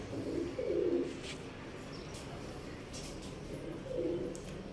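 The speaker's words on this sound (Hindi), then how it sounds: "ये हमारा ब्रीडर कबूतरों का सेटअप है छोटा सा जो हमने बनाया है" Breeder pigeons in a small coop setup coo softly, with two faint, low coo phrases near the start and end over a steady background hiss.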